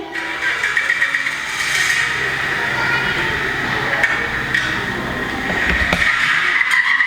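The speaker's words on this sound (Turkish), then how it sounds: "Bu bir araba. Otomobil." A car engine drones steadily with road noise and a faint high squeal, continuous and fairly close throughout.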